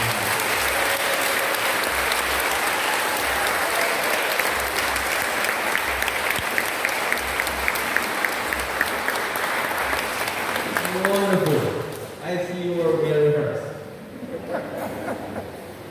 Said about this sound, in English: Let us give them a good clap.